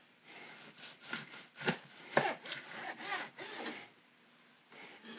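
A knife saws through smoked prime rib in repeated close, scraping strokes, moderately quiet with no talking.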